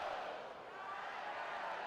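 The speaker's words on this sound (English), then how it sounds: "Listen to this crowd." A crowd at a college baseball game involving LSU keeps up a loud, steady roar of cheering across a stadium, with no breaks.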